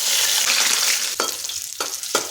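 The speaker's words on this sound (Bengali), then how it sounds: "মাছগুলো একদিকে ভেজে নিচ্ছি।" Fish frying in mustard-style cooking oil, a steady loud sizzle throughout with a few sharp spatters and crackles near the end as the pieces cook on one side.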